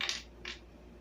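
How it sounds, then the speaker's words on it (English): Two quick metallic rattles of screws shaken out of a plastic housing from a Murray 450 series push mower, close and brief, separated by a short gap. "Shake all the screws out of"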